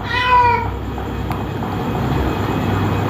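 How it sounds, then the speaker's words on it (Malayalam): A cat gives one clear, loud meow right at the start, then only a steady low background hum remains. "പൂച്ച കടന്നു."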